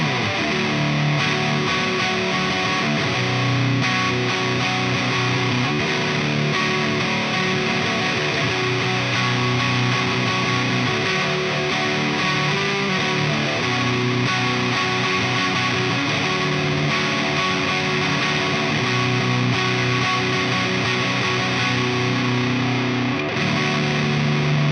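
Electric guitar played through a Fulltone OCD overdrive pedal, a thick, saturated distorted tone sounding continuously and loud, with steady chords and riffs filling the whole stretch and no voices.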